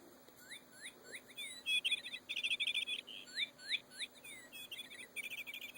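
A noisy toy bird chirps electronically in a repeating sequence of sharp tweets and trills, loud and close, coming in bursts with short pauses between them and no talking over it.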